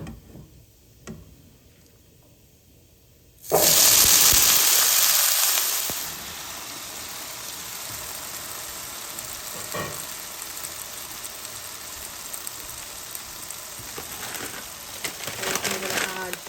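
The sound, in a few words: potatoes added to a pan with cumin seed, frying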